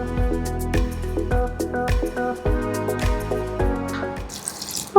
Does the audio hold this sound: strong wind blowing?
no